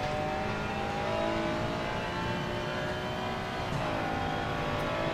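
A race car engine in Assetto Corsa Competizione at Zandvoort, revving hard and holding a strained high-pitched drone, with small pitch shifts as it works through gears, close and continuous.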